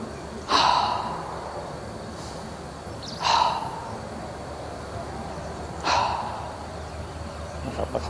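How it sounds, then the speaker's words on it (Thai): During a yoga exercise, a person takes three deep, audible breaths spaced a few seconds apart, each a sharp, airy rush that fades, over steady room noise. "หายใจเข้า"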